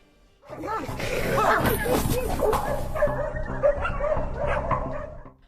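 Stray dogs roaming in a pack near a kindergarten bark and yip repeatedly at close range, a dense, loud chorus of overlapping barks with whimpering cries running steadily throughout.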